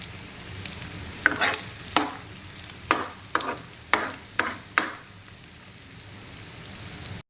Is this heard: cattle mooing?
no